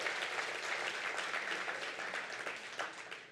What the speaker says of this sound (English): you can clap for the Valkyries